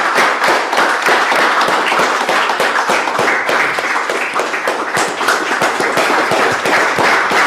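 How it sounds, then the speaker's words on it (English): Meeting audience gives a dense, continuous round of hand clapping, loud and sustained throughout with crisp individual claps audible. "Let's hear a big round of applause."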